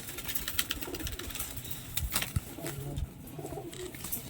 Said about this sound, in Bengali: এই সাদা পাখিগুলো কিছু আছে, এই পাখিগুলো সেল আছে।